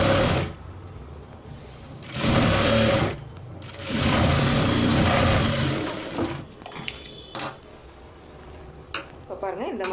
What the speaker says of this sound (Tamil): அதே போல் இந்த பட்டியிலையும் நம்ம தையல் போட்டுக்கலாம்.